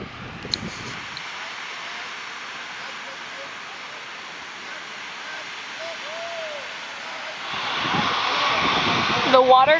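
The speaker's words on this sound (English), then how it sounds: "The water coming out of this thing's making a lot of noise" Cold water rushes loudly out of an outlet at a stepped site in Muscat, Oman, a steady broadband roar that swells louder near the end, with people talking faintly nearby.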